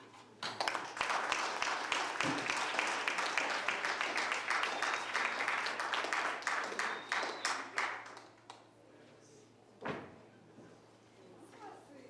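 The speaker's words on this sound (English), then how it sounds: "a big round of applause for our keynote" An audience at a certificate awarding ceremony breaks into dense, sustained applause for the keynote speaker, which tapers off after about eight seconds into quiet room noise with a few scattered claps.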